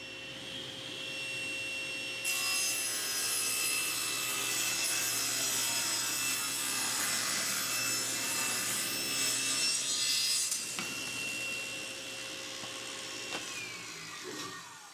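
A SawStop table saw cuts through a wooden workpiece, its steady whine rising as the blade bites in and running for several seconds before the motor spins down, fairly faint, with no talk.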